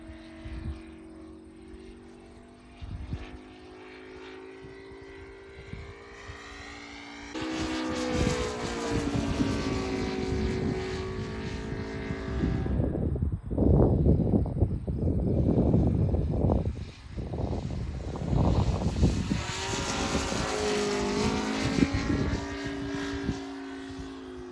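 An Aeroworks Yak 55 RC airplane with an ASP 400 radial engine flies past, its buzzing engine note rising and falling in pitch and loudness as it swoops near and away, with no talking.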